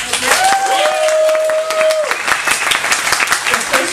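Audience clapping on a JoCo Cruise open mic, a dense burst of scattered claps filling the clip, mixed with whoops and a tonal sweep early on.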